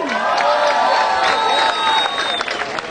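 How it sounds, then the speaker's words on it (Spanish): Applause and cheering swell from a street crowd at a Mérida zombie walk for a costumed zombie, loud and continuous with shouts mixed into the clapping. "¡El aplauso para este Zombie!"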